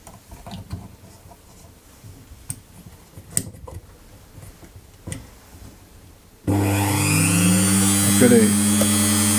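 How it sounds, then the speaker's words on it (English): A rotary grinding tool bites into a Nerf Sledgefire blaster part, starting abruptly after a few quiet seconds of light ticking and handling, then whining loudly and steadily up close. "So we gotta carefully grind it down."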